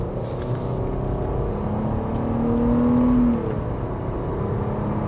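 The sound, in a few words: 2024 Nissan Murano SV accelerating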